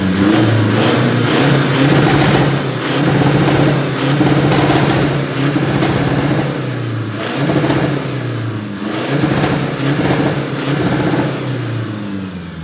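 Toyota Fortuner diesel engine fitted with racing injectors, revved hard in repeated bursts; loud, close throttle blips rise and fall about every two seconds with no talking.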